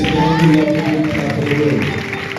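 A Pentecostal church congregation in Senegal erupts in loud, sustained applause and cheering with raised voices, the crowd noise dense and close and continuing throughout.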